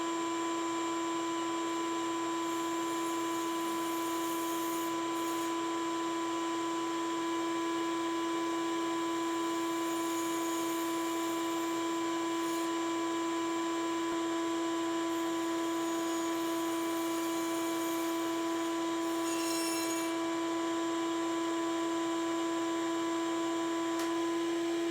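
A bandsaw fitted with a 45-degree jig for halving corks hums with a steady, loud motor tone throughout, with a few faint cutting rasps over the drone and no talk.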